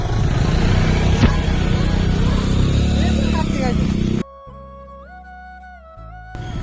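Riding pillion on a friend's motorbike brings a loud, close engine drone with wind rush that cuts off abruptly, followed by music.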